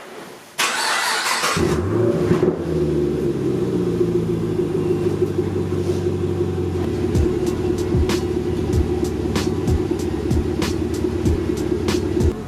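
A 2014 Chevrolet Camaro SS V8 fires up by remote start after a brief quiet moment, with a quick crank and a loud rumbling catch, then settles into a deep, steady idle heard close by.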